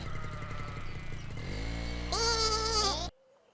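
A lamb gives a loud, close, drawn-out bleat over a steady low engine-like drone, then everything cuts to near silence.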